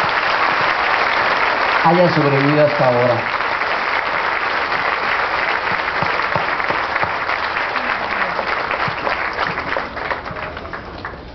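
A large audience applauds steadily at a magazine's fifth anniversary celebration, sustained loud clapping that tapers slightly at the end, with a voice speaking briefly over it.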